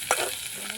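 Onions sautéing in a pan for aval upma, a soft sizzle with a brief stir at the start, close and quiet, no talking.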